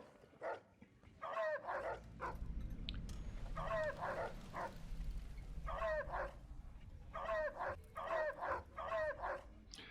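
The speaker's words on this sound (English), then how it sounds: "These are like stock animal sounds, but what I love about it is that I immediately associate that bark" Repeated dog barks, the stock animal sound from the video game Fallout New Vegas, come in several clustered bursts over a low rumbling background, fairly close and loud.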